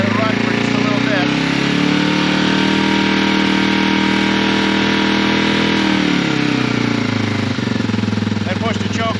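A Yamaha TW200 motorcycle engine idles steadily with the choke pulled all the way out, a loud, continuous mechanical chugging close by that holds even throughout, with a slight dip in tone near the end.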